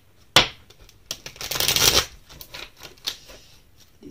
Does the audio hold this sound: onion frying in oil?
no